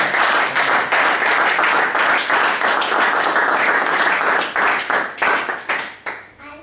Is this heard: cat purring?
no